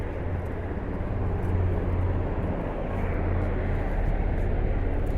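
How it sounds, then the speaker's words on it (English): A helicopter flies overhead outdoors, giving a steady, broad, droning rumble that stays loud and continuous throughout, with no talking. "Here comes that helicopter again."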